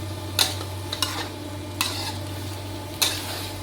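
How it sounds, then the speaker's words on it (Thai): Chicken red curry with pickled bamboo shoots being stir-fried in a pan: four sharp spatula scrapes spaced unevenly over a constant low burner hum and soft sizzle, no voices. "ผัดให้เข้ากัน"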